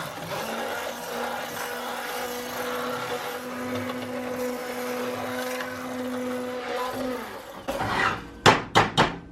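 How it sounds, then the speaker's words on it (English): An immersion blender whirs through cooked food in a pot on the stovetop, a steady loud motor hum for about seven seconds that cuts off, followed by several sharp taps as the blender knocks against the pot. "I'm just going to use my immersion blender to just blend these guys up."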